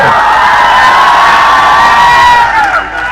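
A big crowd at a political rally cheers and shouts loudly and continuously, with whoops rising over the roar before it dips slightly near the end.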